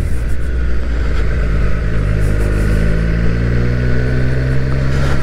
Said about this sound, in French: quand on ouvre les gaz, c'est au niveau de la boîte à air qu'on entend ce son rock du 3 cylindres qui est bien sympathique